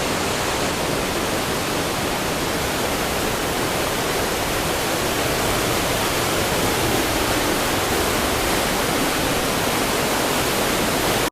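Artificial waterfall inside a grotto at the Buttes Chaumont park in Paris, a loud, steady broadband roar of falling water that fills the whole stretch without pause or voices.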